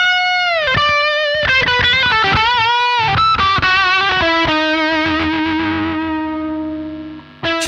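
Heavily distorted electric guitar through a Blue Monster metal distortion pedal plays a fast riff of chugging notes and chords, ending on a sustained tone followed by a brief final strum.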